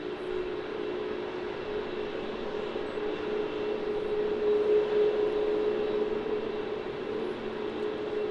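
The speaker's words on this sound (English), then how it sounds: "on departure we have our new Jetstar A321neo" A Jetstar Airbus A321neo departs from Melbourne Airport with a steady broadband jet roar, moderately distant and holding a fairly even level that swells slightly midway.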